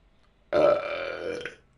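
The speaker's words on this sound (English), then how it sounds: "Burp." A loud, close burp from a drinker rumbles out after a moment of quiet and holds for about a second before fading, with no talk over it.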